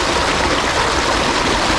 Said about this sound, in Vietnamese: Mình đang ngồi giữa một cái con suối nhân tạo